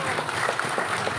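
Brief applause from an audience at a gathering of the Bileg iti Lima Worldwide Organization, a dense patter of clapping with voices murmuring underneath.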